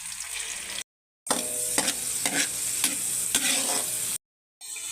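Shrimp sauté in a pan with garlic and tomato, a loud steady sizzle with stirring clatters, broken by two short silent cuts.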